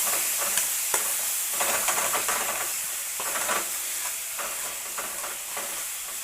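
Tomato frying down in a pan for a prawn curry, giving a steady sizzle and hiss with scattered scrapes and stirring clicks throughout, no voices.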